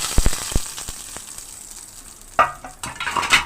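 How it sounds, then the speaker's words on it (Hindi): Mustard seeds tempering in hot oil for a dahi phulki dish, a soft sizzle with scattered crackles and pops, growing busier toward the end; no one talks. "और इधर तड़का भी हमारा तड़कने लगा।"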